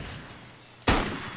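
A single sharp sniper rifle gunshot in the shooter game Terrorist Takedown, a sudden loud crack after a stretch of quiet background noise.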